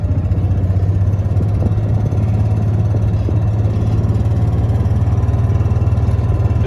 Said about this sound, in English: we're going to drive along here and check this stuff out